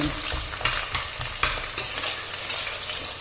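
Sliced onions fry for mushroom biryani with a constant close sizzle, cut by several sharp scraping stirs of a spoon against the pan at uneven intervals, and no voices.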